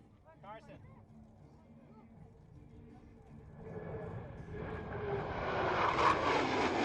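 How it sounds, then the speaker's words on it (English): Blue Angels jets 5 and 6 approach the flight line at about 400 mph during an air show, a broad roar building steadily from faint to loud over several seconds, with an announcer's voice heard briefly near the start. "Blue Angels 5 and 6 are approaching the flight line at 400 miles per hour."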